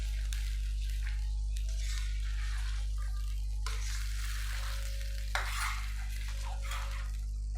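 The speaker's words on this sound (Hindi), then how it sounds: "ये देखें हमारी कलेजी कितनी ज़बरदस्त भुन रही है" Goat liver fries in masala with tomato puree and yogurt, giving a steady sizzle under a constant low hum, with occasional stirring scrapes and clinks of a utensil against the pan.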